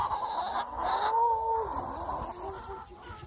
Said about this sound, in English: You guys don't just like the chickens?